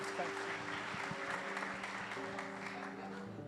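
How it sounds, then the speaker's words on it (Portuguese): Brief clapping from a congregation at a Portuguese-language church service, moderately close and steady, with a sustained hum and voices underneath. "Você pode aplaudir o Senhor mais uma vez?"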